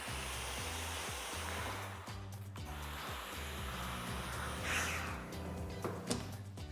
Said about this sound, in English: I love this iron. Watch, it's gonna suck the fabric in so that I can press it beautifully